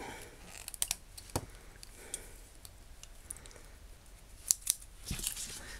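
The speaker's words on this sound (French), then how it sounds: "On va prendre une paire de ciseaux." Scissors snip through paper several times in quick, sharp cuts against a quiet background, with a short cluster of crisp snips toward the end.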